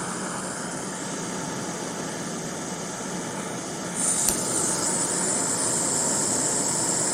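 Gas canister camping stoves, one canister chilled in a freezer, burn with their valves wide open, giving a steady, close roaring hiss that grows louder after a sharp click midway.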